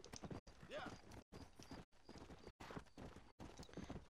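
Rhythmic horse hoof clip-clops in Red Dead Redemption under steady talking, with brief gaps and a faint neigh-like rising tone early on.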